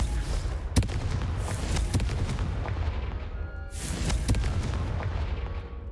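Fiery Confringo spell blasts in Hogwarts Legacy, several sharp booming explosions in irregular bursts over a constant rumbling battle background, loud and close, without speech.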